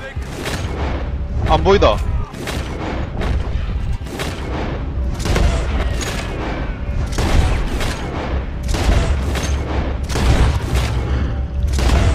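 Repeated gunfire bursts in Red Dead Redemption 2, a long run of loud booming shots with deep low thuds recurring every second or so, while someone talks over the shooting.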